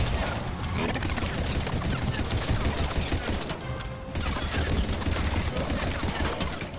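Rapid, dense gunfire in the sci-fi shooter game Mass Effect 3, sustained bursts and impacts clattering almost continuously over the whole stretch with a brief dip midway, loud and busy.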